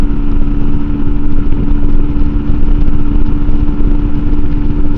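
MUTT 125 adventure motorcycle cruising uphill at 60 mph in sixth gear into a slight headwind, a steady, loud, close engine drone with wind buffeting and no pauses.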